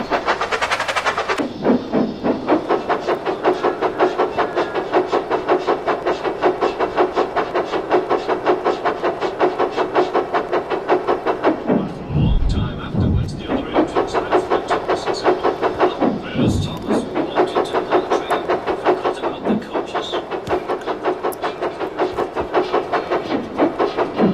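A loud steam train chugs steadily with a fast, regular rhythm and rattling wheels, continuing throughout at close range.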